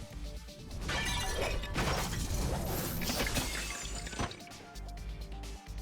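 Bones shattering under sword blows in the Fate/Stay Night visual novel, a dense, loud sustained burst of crashing and splintering debris with a game music bed underneath, tapering toward the end.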